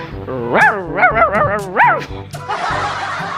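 A voice imitates a big dog barking, giving a quick run of deep, gruff woofs up close, then a breathy hiss as it trails off.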